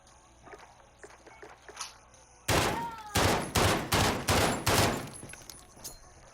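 Rapid bursts of gunfire in Modern Warfare, several short sharp volleys in a steady rhythm after a quieter stretch of footsteps, loud and close with no talking.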